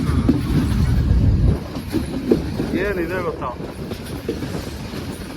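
A train in Sri Lanka rolls along with a low rumble that eases after a loud opening, while someone talks briefly over it.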